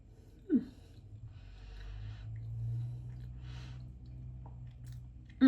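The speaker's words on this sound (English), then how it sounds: "So let's do this initial taste test." Close, soft chewing of a bite of purple potato salad dressed with mayonnaise and olive oil, a low steady mastication with a small crunchy click near the start and another at the end, with no talking.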